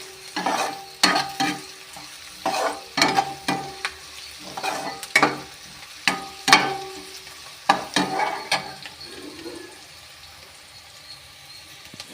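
Onions sizzle steadily in a hot pan while a spoon scrapes and stirs in sharp, regular strokes, close up, while cooking a potato stir-fry.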